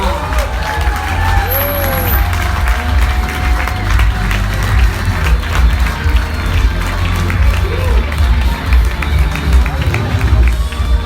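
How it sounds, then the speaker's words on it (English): A large audience applauds and cheers as a speaker is welcomed onstage at a Forever Living Products managers' event, a loud, sustained wash of clapping and crowd noise with voices mixed in throughout. "Desmond Kong, everybody, big round of applause."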